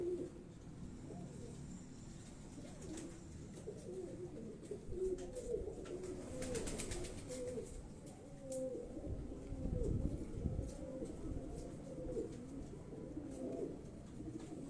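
Pigeon cooing on a rooftop, soft repeated low coos in a gentle rhythm, fairly faint against quiet background noise.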